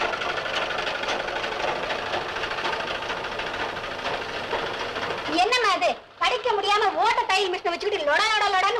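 A sewing machine runs with a steady, dense mechanical whir for about five seconds, loud and continuous, before a person starts talking over a busier, louder background.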